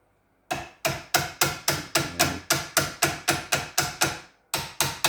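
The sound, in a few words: hammer tapping steering intermediate shaft into bearings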